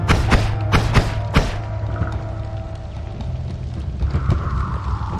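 Dynamite blasts in the Noita video game: several quick booming thuds in the first second and a half, then a rumbling low wash of debris and crackle, loud and dense.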